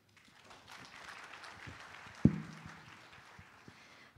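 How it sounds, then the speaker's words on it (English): Forum audience at an opening ceremony clapping for a speaker: faint, scattered applause throughout, with one sharp louder thump in the middle. "Please give applause for Mr. Jerong Lo."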